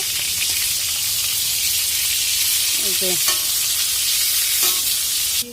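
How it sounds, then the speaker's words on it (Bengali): Sliced pointed gourd (potol) frying in hot oil in a pan, a steady loud sizzle throughout with a few faint clinks of a utensil stirring, ending abruptly. "এইরকম করে ভেজেছি একদম লাল লাল হয়ে গেছে"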